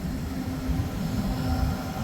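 A Siam train rolls slowly past the torn-up derailment repair area at Attica Junction, giving a steady, loud low rumble of wheels and cars with no talk.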